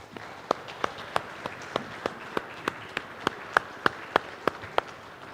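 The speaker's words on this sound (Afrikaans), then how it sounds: "Kom ons gee vir hierdie groep dan 'n lekker hande klap." Audience clapping after a group's performance at a church Christmas pageant, with sharp, evenly spaced claps in a steady rhythm that stand out clearly over a light background.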